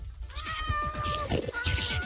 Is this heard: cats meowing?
yes